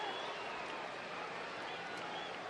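Steady crowd roar filling a baseball stadium during a Rockies at Braves game, cheering loudly and continuously with scattered clapping and no distinct voices.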